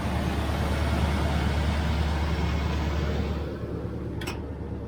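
Restored 1968 Chevelle Nomad on the road, a steady broad rumble of engine and road noise heard from inside, loud and continuous before easing slightly near the end, with a brief faint tone at the close.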